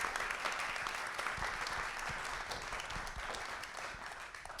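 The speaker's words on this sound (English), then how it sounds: "please join me with a welcoming round of applause for our two panelists here" An audience at a panel discussion on Latinos and conservatism gives a welcoming round of applause for two panelists, steady and fairly even clapping from a crowd heard at moderate distance.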